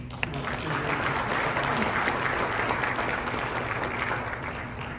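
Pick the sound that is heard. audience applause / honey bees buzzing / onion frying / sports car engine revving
audience applause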